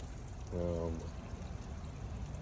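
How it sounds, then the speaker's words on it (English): Water pours steadily from a waterfall attachment on a backyard pond container, a constant close splashing wash that runs through the whole stretch, with a brief tonal sound rising over it early on. "In the back is just a container with a waterfall attachment to it, so that it comes out the top over there."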